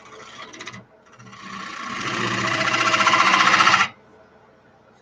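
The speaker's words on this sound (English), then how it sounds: "I got my detail gouge on there. Clean up the tenon." A detail gouge cuts a tenon on a wood lathe, a rising scraping whir that builds over about two and a half seconds and then stops abruptly, after a brief earlier burst of cutting.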